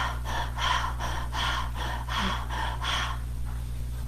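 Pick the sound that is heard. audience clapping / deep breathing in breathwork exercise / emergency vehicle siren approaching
deep breathing in breathwork exercise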